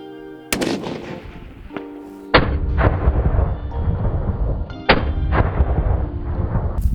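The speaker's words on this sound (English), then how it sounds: "Gun's shooting good." A hunter's rifle is fired outdoors during deer season, and each shot cracks loudly up close. Three sharp reports come at irregular intervals, and each is followed by a long rolling echo. No one speaks.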